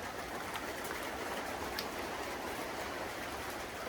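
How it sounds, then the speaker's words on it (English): Heavy storm rain pours down steadily around a car, a dense, even hiss with faint patter of hail on the surface, constant and close with no speech. "It's starting to get big hail."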